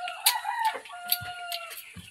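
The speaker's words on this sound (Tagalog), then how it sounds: "Manok na lang." Chickens and a rooster crowing and clucking close by, several short overlapping calls and a drawn-out crow in quick succession, loud and clear with no talking.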